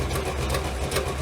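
A V8 engine swapped into a Pontiac Fiero idles with its exhaust fitted, a steady low rumble with slight surges running throughout, close and fairly loud, with no voices over it.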